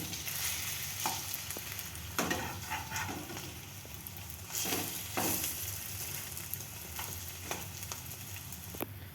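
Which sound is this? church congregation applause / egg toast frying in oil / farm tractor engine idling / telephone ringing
egg toast frying in oil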